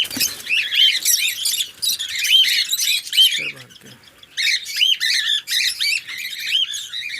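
A lovebird in a breeding cage squawks and chirps in rapid, shrill bursts close by, the harsh calls repeating almost without pause, joined by a brief low rustle partway through.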